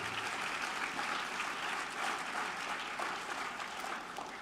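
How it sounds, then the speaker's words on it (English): Applause from the audience at the PIA National Awards for Planning Excellence 2022 ceremony, a continuous, even round of clapping heard at a modest distance with no speech over it. "Big round of applause for these wonderful people."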